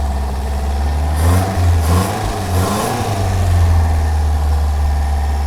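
A 1980s Daihatsu 4x4 engine idles close by with a loud, steady low rumble and slight uneven pulsing, running alone without any talking.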